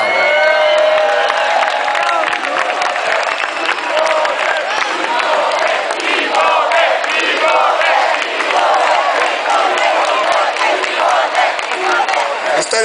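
A large live-show audience cheers, whoops and applauds at a concert by a Spanish comedy-music group, a dense, loud, continuous roar of voices and clapping lasting the whole stretch with no pause.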